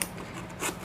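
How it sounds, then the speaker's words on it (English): Scissors slicing through the seal of an Amazon parcel holding pTron Bassbuds Jade gaming earbuds, a quick close snip-and-rasp lasting under a second. "Cut the seal."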